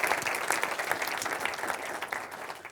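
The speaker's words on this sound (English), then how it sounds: "please give a round of applause for Sebastian" A conference audience applauds a speaker at a tech event, with steady, dense clapping that continues evenly throughout at moderate loudness and no voices over it.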